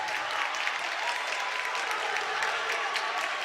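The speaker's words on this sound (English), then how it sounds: "Both crowds coming alive with just over 3 minutes left to play" Crowds at a high school boys basketball game between Menasha and Xavier cheer and clap in a dense, steady roar that fills the gym, with no distinct voices standing out.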